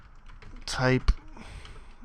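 C++ code typed on a computer keyboard, a few soft, scattered keystrokes and a dull thump following a briefly spoken word.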